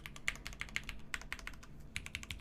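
Close, crisp keystrokes on a Box75 mechanical keyboard with Hyperglide switches, typed in an irregular quick rhythm with a few sharper clacks, no voices.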